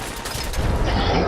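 Gunfire from Diamond City attackers in the video game Fallout 4, a rattling burst of shots and mechanical clatter that swells into a denser, louder volley toward the end.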